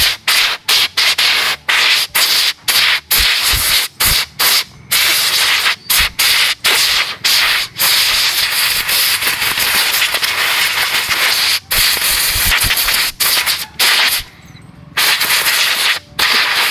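An air compressor nozzle blows to clean a Raider 150 carburetor motorcycle during an oil change, giving loud, harsh hissing bursts in rapid on-off pulses with brief gaps, close to the listener.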